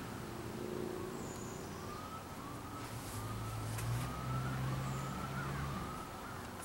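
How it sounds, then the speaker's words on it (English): A siren wails faintly in the distance, its pitch rising and falling over a low hum of traffic and outdoor background noise. "I hear the sirens."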